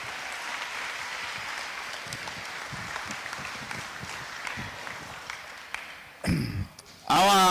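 Applause at a high school cross country send-off, steady clapping from a gathered crowd that fades toward the end before a speaking voice cuts in.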